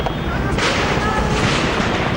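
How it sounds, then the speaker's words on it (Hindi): Police return gunfire from news footage of a grenade attack on CRPF personnel in Pulwama, Kashmir: a continuous loud rumble of firing, with a sharper burst about halfway through. "पुलिस ने भी गोलियां दागी,"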